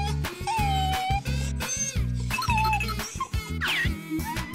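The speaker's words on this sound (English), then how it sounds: "Dog." A cartoon-style dog yips and barks a few times in short bursts, mixed into loud, bouncy children's music with a steady bass beat.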